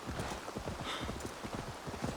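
A horse gallops in Assassin's Creed Valhalla, its hooves clip-clopping in a fast, steady rhythm that runs continuously up close over a faint hiss of game ambience, with no talk.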